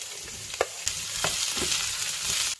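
Potatoes fry and sizzle in a pan, a steady hiss with a few soft scrapes of stirring, fairly quiet and with no voices.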